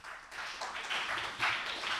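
Audience at a television presenter-contest finale applauding, a soft, continuous wash of many hands clapping, somewhat distant and quiet, swelling slightly toward the end.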